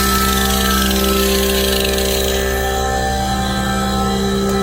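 A grinder powered from a solar battery system at about 650 watts, running as a loud, steady, continuous whine with a dense motor hum throughout.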